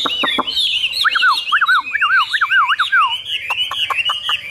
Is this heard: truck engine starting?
no